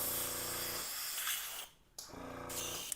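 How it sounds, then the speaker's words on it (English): Airbrush spraying Grex cleaner onto a paper towel, close and loud: an electric compressor hum with a steady hiss, cut off for about a second, then a second spray burst that runs to the end. "I'm just spraying on a paper towel"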